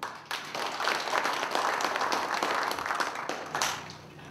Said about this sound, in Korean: 동의하시면 박수 한번 보내주십시오